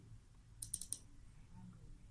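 Mouse clicks from a computer mouse connected to an Android phone: four quick, close, sharp clicks in a short burst, then quiet room tone.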